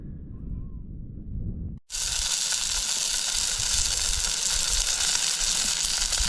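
Onions sizzle in a pan on a camp stove at a wild campsite on Easter Tor, a steady loud hiss that starts abruptly after a quieter opening and continues unbroken to the end.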